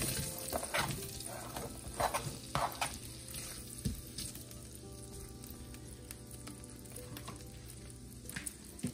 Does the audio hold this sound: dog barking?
no